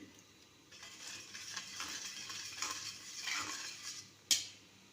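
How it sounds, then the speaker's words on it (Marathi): A spoon stirs a milk and cornflour mixture in a pot for a sweet milk pudding, giving soft, continuous scraping and swishing, ending with a single sharp metallic clink. "एकसारखे मिसळून घेऊया"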